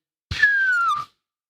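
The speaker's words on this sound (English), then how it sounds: "Hopefully the whistle was clear." A referee's whistle at a football match gives one clear sustained blast of under a second, its pitch sliding slightly downward, close and loud and heard alone.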